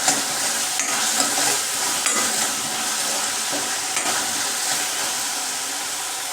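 Onions with salt fry in a pan for Maharashtrian methi bhaji, a loud, continuous close hiss of sizzling oil broken by a few light clicks of stirring, with no voices.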